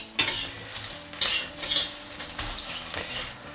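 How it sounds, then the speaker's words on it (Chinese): Whole chili peppers pan-frying until blistered, heard up close: a soft ongoing sizzle broken by several sharp scrapes and clinks of a utensil stirring and turning them in the pan, with no talking. "我们煎的时候只要把两面煎成这种虎皮色就好了"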